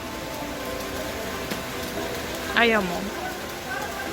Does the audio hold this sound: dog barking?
no